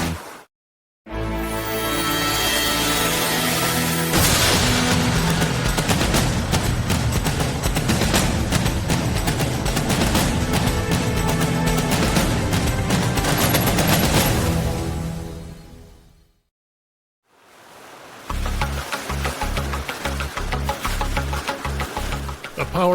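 Warship guns fire during a naval exercise in a dense, loud barrage of rapid booming shots lasting over ten seconds, then a brief silence before another burst of heavy fire.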